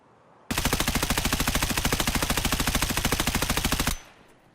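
A rapid, unbroken burst of automatic gunfire in Escape from Tarkov, loud and close, with evenly spaced shots lasting about three and a half seconds before stopping abruptly.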